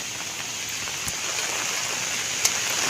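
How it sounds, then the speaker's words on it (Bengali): Heavy rain falls steadily over flooded rice paddies, a dense continuous hiss with a few sharper drops standing out and no voices. "বিশাল বৃষ্টি বৃষ্টির কারণ দেখেন"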